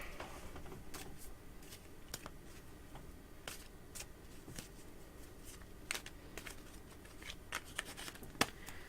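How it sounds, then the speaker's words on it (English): A dragon tarot card deck is shuffled by hand, with soft repeated riffles and crisp card snaps at irregular intervals, close and fairly quiet over a faint background. "I think this is shuffled well enough"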